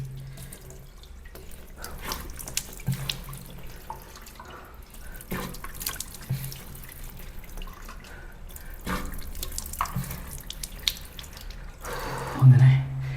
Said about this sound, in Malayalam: ഇനി ജസ്റ്റ് ഒന്ന് ഫേസെല്ലാം ഒന്ന് കഴുകാം